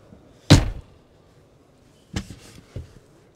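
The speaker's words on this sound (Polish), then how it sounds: "zamykamy drzwi" The door of a Knaus Yaseo e-power all-electric camping trailer swings shut with one sharp, close slam, followed by two softer thunks as it settles and latches.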